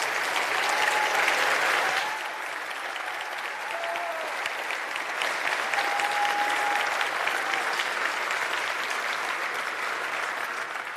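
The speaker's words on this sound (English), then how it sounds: "give a warm round of applause for Tanja" Loud, sustained applause from a convention audience greeting a speaker taking the stage, with heavy dense clapping that eases slightly after the first couple of seconds and then continues steadily, with no talking.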